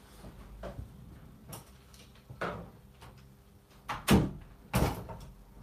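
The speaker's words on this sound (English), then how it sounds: "I'm just going to close the door." An indoor door is pushed shut, with light shuffling and handling sounds before a couple of sharp knocks and a firm close, fairly near and quiet overall.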